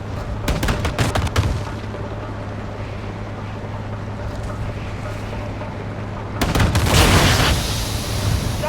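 Heavy gunfire from an APC in Call of Duty: Modern Warfare 2 starts with a quick run of loud shots, then a constant rumbling battle din lasts throughout and swells with a fresh burst near the end.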